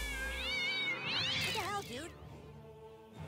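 A Nazi zombie kitten in the video game South Park: The Stick of Truth gives a drawn-out, wavering meow, loud and close over low game rumble, with a voice speaking around it.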